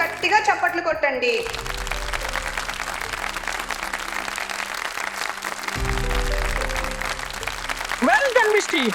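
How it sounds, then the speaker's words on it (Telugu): An audience claps steadily and fills the room after a dance competition winner is announced, while a voice speaks briefly at the start and again near the end. "నిలాంజన కోసం గట్టిగా చప్పట్లు కొట్టండి"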